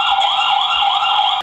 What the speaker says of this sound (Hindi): चोर देखते ही इसमें से साइरन बजता है